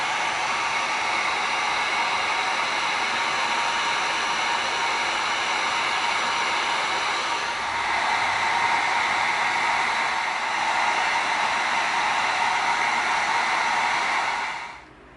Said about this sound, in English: now we're going to heat seal these, and it's going to burn off all the little fuzzies around the edges